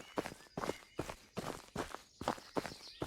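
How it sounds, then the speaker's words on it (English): Loud, heavy footsteps in Gold Hunter keep a steady walking rhythm of about seven close steps with no one speaking. "The footsteps is really loud too."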